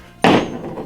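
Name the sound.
weighted drill bit dropping off a magnetic wristband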